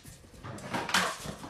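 A dog vocalizes while performing a trick, giving short whimpering, yip-like sounds close by at a moderate level, with a louder burst about two-thirds of the way through.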